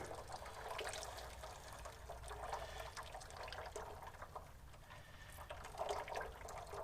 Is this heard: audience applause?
no